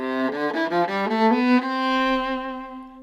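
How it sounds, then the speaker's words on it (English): A bowed string instrument played détaché, with separate bow strokes giving a run of distinct, evenly spaced notes that climb and then settle into a held final note, heard close and alone. "If we play détaché, which is separate bows"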